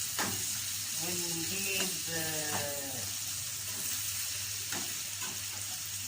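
Liver with green chili sizzling in a pan as it is stirred and fried, a soft, steady crackle close by, while a voice talks over it.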